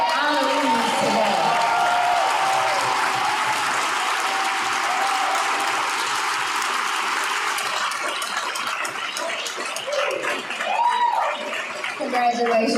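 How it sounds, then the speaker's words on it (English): Loud, sustained audience applause for honorees at a Ladies First awards event, filling the hall, with cheers and voices rising over the clapping toward the end. "Please join me in giving a round of applause to all of our honorees today."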